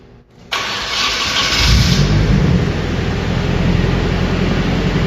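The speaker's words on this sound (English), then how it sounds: "now the car's running, it's idling" A Nissan KA24DET turbo engine in a 240SX starts for the first time, with a brief cranking whir that catches into a loud, steady, rumbling idle close by.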